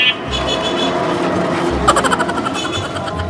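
A road vehicle being driven in winter, a steady engine and road rumble that stays loud and close throughout, with no voices over it.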